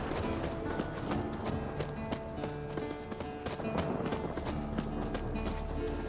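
A warhorse in The Witcher 3 clip-clops along at a steady walk, close hooffalls repeating in an even rhythm over a soft ambient bed, with no speech.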